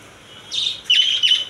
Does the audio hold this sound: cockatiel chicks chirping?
yes